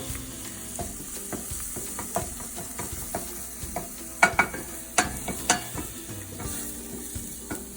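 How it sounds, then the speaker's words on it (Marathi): Coriander paste stir-fried in an open pan for coriander rice, a steady low sizzle broken by a series of sharp spatula scrapes and knocks, loudest toward the middle. "झाकण जर ठेवलं तर पेस्टचा कलर चेंज होईल, त्यामुळे आपण अशीच परतून घ्यायची आहे।"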